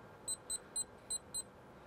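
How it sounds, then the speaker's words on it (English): A meat thermometer controller on a Kamado Joe grill beeps five times in quick, slightly uneven succession, high-pitched and clear over a quiet background. "You can hear it start beeping because it went beyond it"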